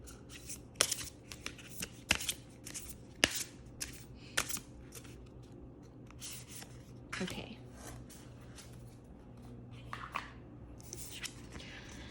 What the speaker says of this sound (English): and draw more cards. These are oracle cards.